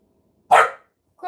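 A pet female dog lets out one sharp, close bark in an otherwise quiet room, with the start of a second bark cut off at the end.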